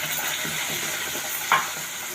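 Onion and cashew paste frying in oil for paneer curry, a continuous close sizzle with one brief clink of a spoon against the pan.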